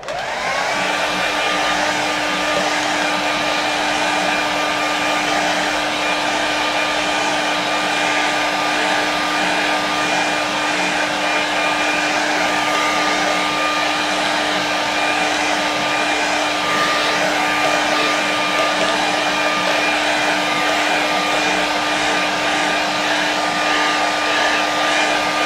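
A hair dryer blows steadily to dry a watercolour painting of Olden, Norway, a continuous close whine with a constant pitch that runs unbroken throughout and never fades, with no talk heard over it.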